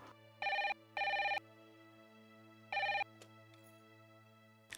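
A telephone rings indoors in three clear electronic bursts, two close together and a third after a pause, over a steady low hum, with no one speaking.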